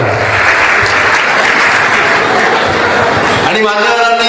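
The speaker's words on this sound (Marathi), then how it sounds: "एकदा टाळ्या वाजवायच्या सर्वांनी नाना कुदळे याच्यासाठी बोलवतात." Audience applause at a 50th birthday celebration welcoming Nana Kudale to the stage, a loud, steady clatter of clapping hands; a voice begins speaking near the end.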